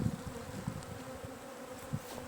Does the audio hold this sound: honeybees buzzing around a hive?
yes